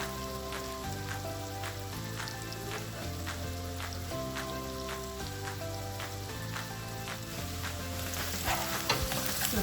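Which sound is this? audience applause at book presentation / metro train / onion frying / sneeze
onion frying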